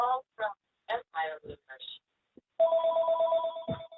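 Mobile phone rings during a zoning board meeting, a steady electronic ringtone that cuts in right after a few brief bursts of a person speaking, then keeps sounding loudly.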